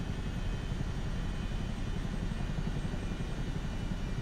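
A Chinook helicopter in Microsoft Flight Simulator 2024 gives a steady, loud rotor and engine drone with dense low-end rumble, unbroken throughout and free of talk.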